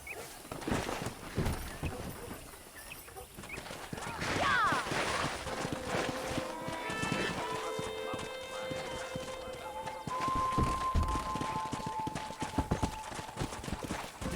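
Horses in the Red Dead Redemption 2 video game, with clip-clopping hooves and a brief whinny among outdoor ambience and music-like tones, mixed under occasional talk.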